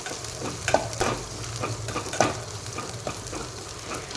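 Cloves, coriander seeds, garlic and ginger fry in hot oil for goat leg paya soup, a steady close sizzle broken by several sharp stirring scrapes and clatters of a spoon in the pan.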